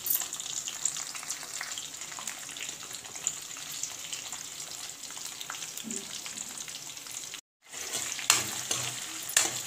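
Green chillies and onions fry in a pan for a mushroom curry, giving a steady close sizzle with occasional stirring, one brief drop to near silence, then frying resumes.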